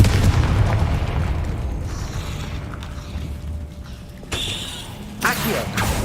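A Confringo fire spell explodes in Hogwarts Legacy with a heavy opening blast, a decaying rumble, then a sharp burst of crackling debris near the end amid game ambience.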